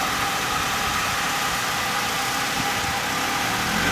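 An off-road 4x4 crawling in first gear with no throttle, a steady low engine idle rumble with faint vibration, constant and close throughout, with no talking.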